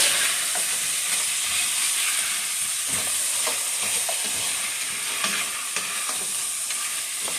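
Ribs in a sticky sauce glaze stirred around a hot pan, giving a steady close sizzle with scraping and wet stirring clicks throughout.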